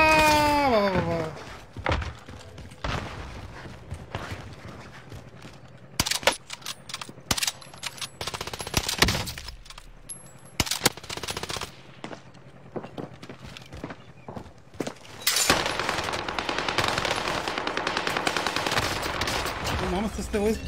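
Rapid video game gunfire, bursts of machine-gun shots and single cracks, loud and dense through most of the stretch, with excited talk and shouting from players in between.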